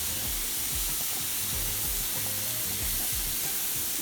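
Beef burger patty frying in a pan, a steady close hiss and sizzle with faint crackles throughout, no talking.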